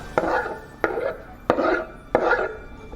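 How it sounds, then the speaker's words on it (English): Chillies blitzed in a food processor to a fine chop, heard as four short, evenly spaced whirring pulses, close and fairly loud, with no talking. "stick them into my food processor because I really want to get them quite finely chopped"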